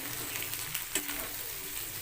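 Okra frying with fish roe in a pan makes a steady, moderate sizzle with soft stirring scrapes and one brief clack near the middle. No one speaks.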